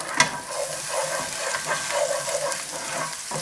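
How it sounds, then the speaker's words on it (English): Chopped ginger and garlic sizzle and crackle in a hot pan for a few seconds, a continuous close frying hiss with small stirring scrapes. "Just going to add the chopped up ginger and garlic. Cook for just a few seconds."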